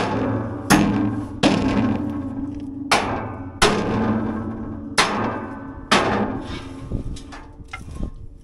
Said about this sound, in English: Even if you don't have a 8-pound sledge with the handle cut down short, you can still get it off with a small sledge.